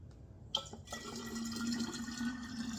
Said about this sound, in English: Pour it into your container.